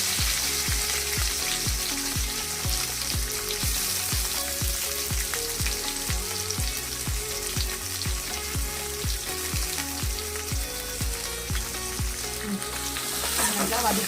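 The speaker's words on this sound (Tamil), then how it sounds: "நல்லா வதக்கிக்கலாம்." Onions and curry leaves sauté in a pan, giving a loud, continuous crackling sizzle throughout, with faint background music underneath.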